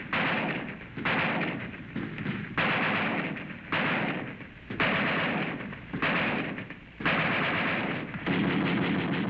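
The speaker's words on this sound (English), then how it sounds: "Automatic fire, heavy, no chance for the infantry to move." Heavy automatic weapons fire in combat, armored personnel carriers assaulting with airborne troops: loud sustained bursts roughly every second, repeated in a steady rhythm with brief gaps, no voices.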